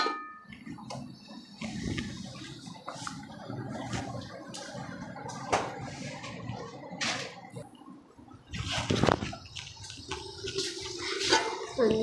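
Water is poured into frying tinda curry in a pan, a soft continuous splash and sizzle with light clinks of utensils, fairly quiet and without speech.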